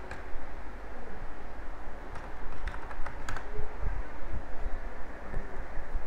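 Fingers typing on a computer keyboard, a quick run of close, crisp key clicks over a steady background rumble, with no talking.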